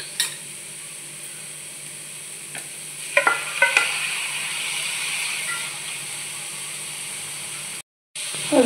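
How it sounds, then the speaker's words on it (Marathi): Onion and tomato are stirred in a hot pan for white sauce cheese pasta, a soft steady sizzle under several light spatula scrapes and clinks, close and moderately loud, ending in a brief silence and a final scrape. "हलवून घ्यायचं।"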